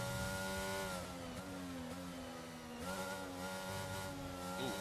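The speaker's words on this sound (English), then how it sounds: "feathering the throttle through there" A race car engine in a racing video game drones loudly and continuously as the throttle is feathered through a corner, its pitch dipping and rising in smooth waves with no pauses.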